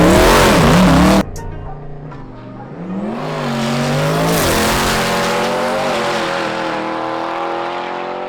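A twin-turbo C8 Corvette with a built engine runs at Silver Dollar Racetrack in Reynolds, Georgia, opening with a loud roar that cuts off sharply, then revving and pulling away again in rising engine tones.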